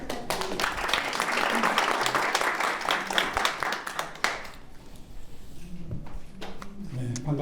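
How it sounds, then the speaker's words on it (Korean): Audience applause welcoming Seoul Mayor Oh Se-hoon at a policy debate forum, loud and dense for about four seconds, then dying away to scattered claps and room noise. "여러분 큰 박수 부탁드립니다."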